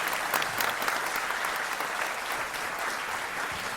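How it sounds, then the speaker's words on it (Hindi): A large audience bursts into steady, dense applause welcoming a religious storyteller onstage at a televised Hindu spiritual event, the clapping sustained and loud throughout with no talking over it. "जोरदार तालियों से स्वागत करें।"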